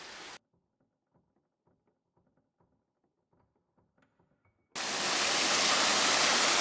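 A steady, loud rush of falling water at Baskins Creek Falls, a waterfall in a fire-touched forest. It cuts in briefly at the start, gives way to near silence with faint scattered ticks, then returns strongly to the end.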